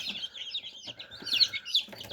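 A crowd of newly hatched chicks in an incubator, running without power, peeps in a continuous shrill chorus of overlapping high chirps, close and fairly loud.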